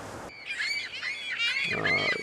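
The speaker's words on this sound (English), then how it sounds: "Bloody seagulls." Seagulls in the Fishing Barents Sea video game, several close, loud squawking and wailing calls in quick succession over a quiet background.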